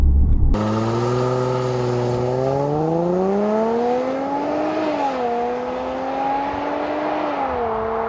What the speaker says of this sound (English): We're gonna do a 0 to 60 in this thing